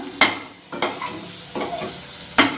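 Egg being scrambled and stirred in a hot frying pan, soft sizzling broken by four sharp spatula scrapes and knocks against the pan, close and clear with no voices.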